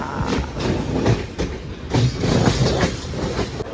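A Diva–Vasai MEMU train runs along the Mumbai–Ahmedabad main line, giving a continuous close rumble with rhythmic clickety-clack of wheels over rail joints.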